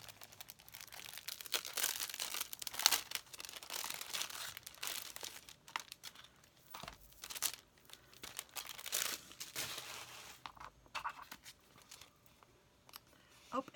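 Crinkly plastic or paper rustling and crumpling as small items are unwrapped from a cute bag with a sticker, continuous soft handling noises near and moderately quiet, with someone talking over them.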